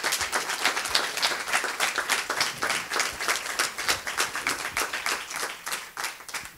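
Closing applause from an audience at a health talk on Alzheimer's disease, many hands clapping steadily and fairly close for several seconds, with no break in the sound.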